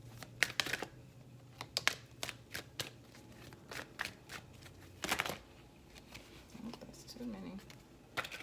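Tarot cards are shuffled and riffled in quick crisp bursts, close up, with brief pauses and a soft voice murmuring near the end.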